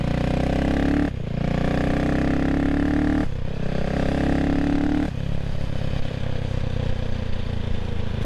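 CCM Spitfire Six motorcycle cruising at about 40 mph in fourth gear through a bend, its steady engine drone loud and close with wind rush, the pitch dipping briefly as the throttle eases twice.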